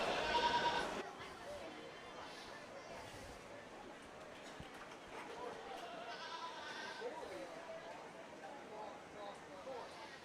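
Goats bleating in the arena during a showmanship class at the Wirt County Fair livestock show, with several calls scattered across a noisy crowd and an announcer speaking over the barn ambience.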